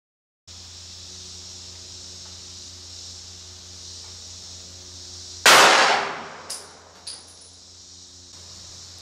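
A single sharp, loud shot from a Glock 19 firing a Federal HST 9mm +P 147 gr JHP round into test media at 10 feet, with a couple of small metallic clinks after it over a steady background hiss.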